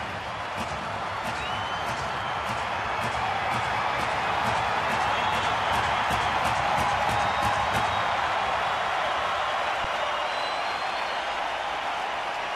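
A baseball stadium crowd at a Diamondbacks game roars in a steady, loud, continuous wash of cheering and noise, with rhythmic clapping and whistles rising through it.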